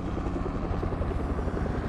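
A Fortnite helicopter gives a steady, loud rotor thrum with a dense low rumble, unbroken and close, with no voices over it.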